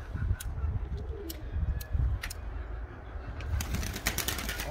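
Birds in a backyard coop coo and flutter softly at a distance, with scattered sharp ticks and clicks over a low, rough background.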